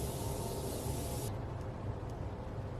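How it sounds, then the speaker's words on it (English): A Morphe Continuous Setting Spray gives a steady, continuous hiss for just over a second and then stops, leaving low background noise. The spray is close and fairly faint. "I want to take my Morphe Continuous Setting Spray and just spray this down."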